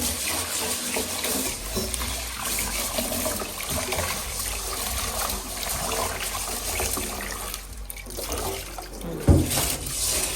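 Mung beans are washed under a running tap in a sink. Water gushes and sloshes steadily and close for the whole stretch, with a brief knock near the end and no speech.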